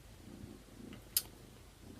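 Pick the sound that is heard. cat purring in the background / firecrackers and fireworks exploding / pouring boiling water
cat purring in the background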